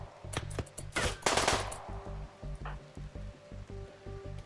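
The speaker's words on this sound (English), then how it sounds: "they are shooting at the walk without me being able to do anything about it" Rapid automatic gunfire in the colony-building video game Rimworld, a steady stream of sharp shots with a brief louder burst, crackling on continuously through the whole stretch with no talk.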